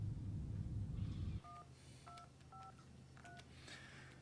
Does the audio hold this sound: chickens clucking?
no